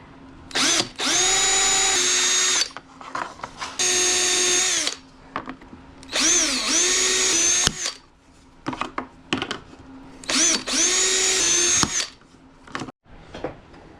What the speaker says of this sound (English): I'm going to pre-drill with a countersink bit on this